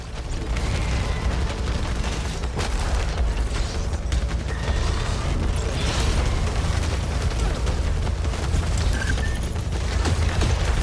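Alternate-fire weapon shots in Returnal, a sci-fi shooter, rattle and boom in dense, continuous bursts of blasts and impacts over a loud combat din, with a voice talking intermittently throughout.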